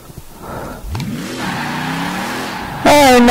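A Toyota car in the Forza Horizon 4 racing game revs up, engine tone climbing and holding, then jumping to a louder, higher whine near the end, close and prominent with no talk.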